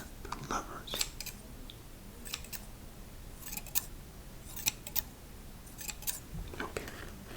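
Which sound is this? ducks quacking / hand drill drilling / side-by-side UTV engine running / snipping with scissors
snipping with scissors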